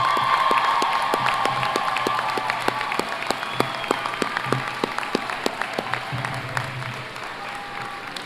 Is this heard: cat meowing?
no